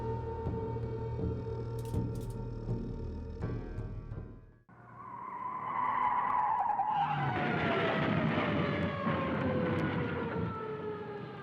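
A car skids with a long tire squeal and a high screech, then a sudden drop and a rising roar of engine and scraping noise from the crash, loud and continuous with no talk.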